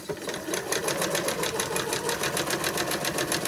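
Sewing machine stitching through several pinned fabric layers, a steady close rhythmic whirr of fast even stitches running continuously from start to finish.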